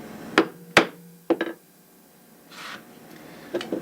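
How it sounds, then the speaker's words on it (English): A leather chisel is struck to punch holes in leather on the bed of a clicker press, giving sharp, close mallet knocks in an uneven sequence of four or five hits with quiet gaps, no talk. "Now again, I'm punching on the bed of a clicker press."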